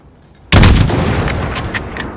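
A single loud sniper rifle shot in Call of Duty Modern Warfare cracks suddenly out of near silence, followed by a long rumbling, reverberant tail that fades slowly.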